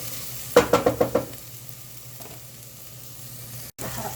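Garlic and hot peppers frying in oil, a low steady sizzle that stays faint under a quick run of five sharp clicks near the start.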